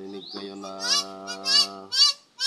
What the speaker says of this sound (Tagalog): Yan, mga guys, ay alaga natin, ibon. Kaya ayan, nag-iingay na talaga.